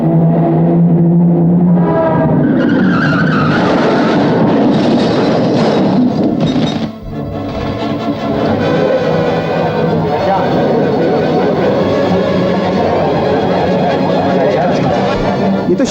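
A car arrives in a scene from the Bollywood film Hindustani, a loud, broad engine roar that swells and then holds steady, with voices talking over it.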